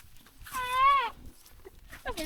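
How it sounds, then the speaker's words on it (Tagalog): A single wavering goat bleat close by, tonal and slightly shaky, lasting about half a second, heard during a road trip amid low background rumble, with a brief second call starting at the end. "May kasama pala ang kambing."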